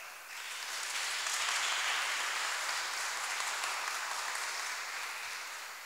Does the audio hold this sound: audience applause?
yes